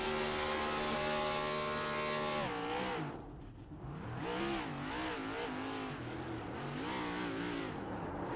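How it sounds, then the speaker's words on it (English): Stock car holding a long burnout at Martinsville in a racing video game, a loud steady engine roar with shifting revs and tire noise, sustained and close throughout with no talk. "It's going long on that burnout"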